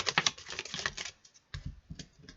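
A deck of oracle cards shuffled by hand: a rapid, dense flutter of cards slapping together, then a brief pause and a few softer taps and riffles, close and fairly quiet.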